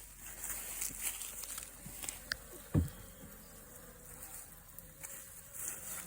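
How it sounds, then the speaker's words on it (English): Russian bees at an opened hive, a faint, continuous buzzing drone with occasional closer passes of individual bees and light handling knocks. "There's a big bunch of beautiful bees"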